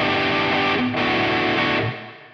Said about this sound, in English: And you got some really nice reverbs in here.